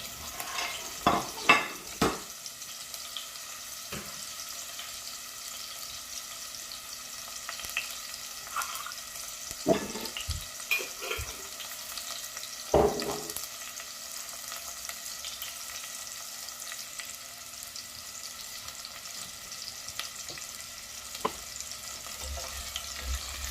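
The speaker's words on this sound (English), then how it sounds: "We are adding our onion to the oil. Just fry it" Onion frying in oil for potato porridge, a faint, steady hiss punctuated by a few scattered clinks and stirring knocks, quiet and without speech.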